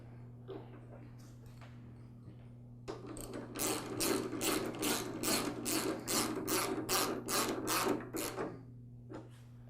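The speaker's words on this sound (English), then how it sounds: "Then I'll push all this towards the handle and secure it with the nut." A nut tightened on the handle bracket of a Honda HRX217 lawn mower, heard as a steady run of crisp, evenly spaced ratchet clicks up close over a constant low hum, lasting several seconds.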